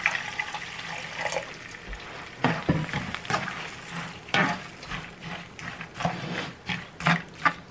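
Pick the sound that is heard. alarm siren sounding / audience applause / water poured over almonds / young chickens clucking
water poured over almonds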